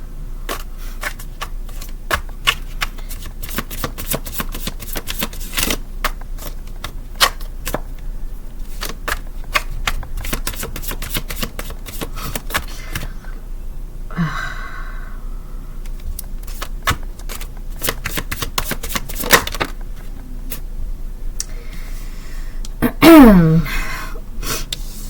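Tarot cards shuffled by hand, with rapid crisp riffles and flicks repeating throughout, close and fairly quiet, with a brief breath or gasp near the end.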